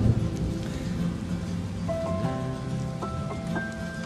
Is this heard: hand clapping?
no